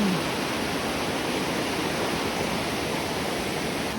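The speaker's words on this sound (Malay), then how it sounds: "Dengar weh air laju weh air" Fast-flowing river water rushes in a steady, loud, unbroken roar that stays close and even throughout, with no voices over it.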